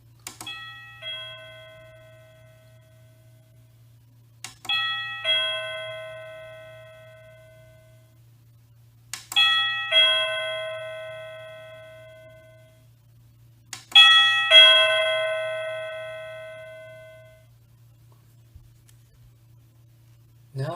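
A SadoTech Model C wireless doorbell plays four ringing ding-dong chimes at regular intervals, each cycling through a different volume level, clear and close over a faint steady hum.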